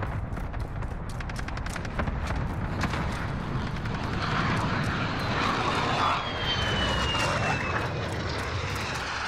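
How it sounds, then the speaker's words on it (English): Friendly VTOL jet in Call of Duty: Modern Warfare (2020) roaring overhead as a steady, loud engine drone with a rising whine partway through, set against continuous game noise. "Friendly VTOL jet on station."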